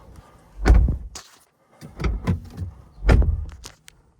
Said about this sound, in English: we'll shut the doors